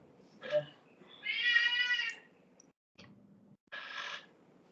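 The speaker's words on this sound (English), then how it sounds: "My cat." A pet cat meows indoors, two drawn-out meows with a short chirp before them and a brief chirp between them, fairly quiet and close, with no voices.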